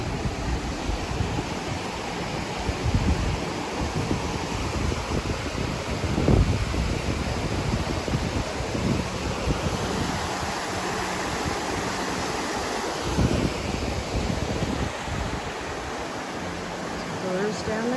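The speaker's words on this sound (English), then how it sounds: "This is a suspension bridge across the Toxaway Creek." Water from Toxaway Creek rushes steadily under a suspension bridge on a hiking trail, a continuous broadband flow heard at close range with no talk over it.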